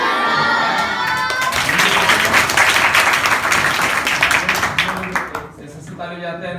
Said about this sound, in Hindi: और उनके लिए ताली बजाओगे?